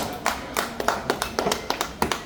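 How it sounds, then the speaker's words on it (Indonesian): A talk show audience at a gemstone event claps for a gemologist guest. A small group makes sharp, distinct claps in an uneven rhythm, close and fairly loud. "Tepuk tangan untuk Bung Adam Haris."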